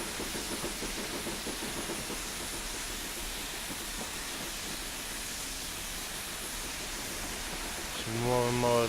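A Black 5 steam locomotive climbing a hill in the west of Scotland, with rapid rhythmic exhaust chuffs over a steady hiss, then a sharp whistle blast near the end.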